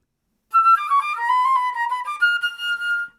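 Solo flute plays a short phrase from a Köhler etude in a plain, unaccented style, clear and close with smoothly connected sustained notes for about three seconds.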